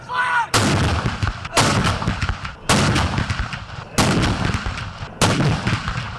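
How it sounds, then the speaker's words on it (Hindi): Five heavy cannon blasts from a 21-gun artillery salute boom out one after another at roughly even intervals, each leaving a long rumbling echo that fades just before the next shot. "पाक फौज के चाको चौबंद दस्ते ने दिन का आगाज 21 तोपों की सलामी से किया।"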